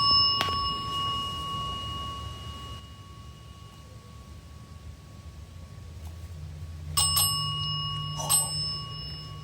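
A bell rings out at a burnt-down hotel ruin, with one sharp strike near the start and two more bright chimes toward the end over a low, steady background rumble.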